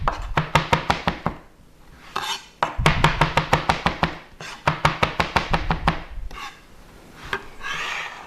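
A knife rough-chopping fresh chili on a cutting board, sharp rapid knocks coming in three quick runs separated by short pauses and a scrape, close and clear.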